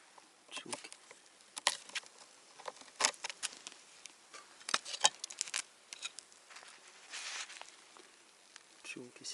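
Honey bees at an autumn apiary hive with nine frames of comb give off scattered, fluttering buzz bursts of varying loudness, close by and without talk.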